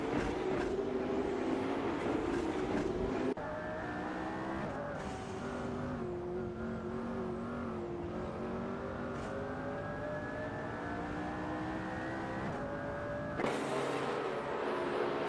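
Hypercars racing at Spa in a racing video game: a loud, continuous engine drone rises and falls in pitch as the cars accelerate, with abrupt cuts between camera views.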